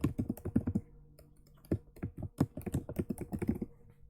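Keys clatter on a computer keyboard as an address is typed, quick bursts of close, crisp clicks broken by a short pause in the middle, with nothing else heard.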